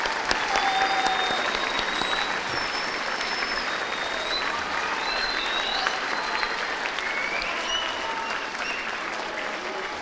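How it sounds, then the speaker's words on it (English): Sustained applause from a school assembly audience for a Veterans Day program, steady and loud across the whole stretch with a few faint voices mixed in. "Let's give him one more round of applause,"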